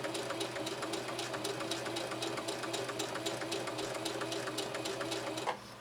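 A Singer Heavy-Duty 4423 sewing machine stitches fabric on its own feed, a quick regular needle clatter running steadily up close before stopping abruptly near the end.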